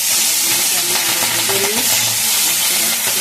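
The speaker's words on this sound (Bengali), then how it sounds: "এবার আমি মাছগুলোকে ভাজা করব।" Hilsa fish rubbed with salt and turmeric frying in hot oil, a dense continuous sizzle with crackling and stirring scrapes throughout, close and loud.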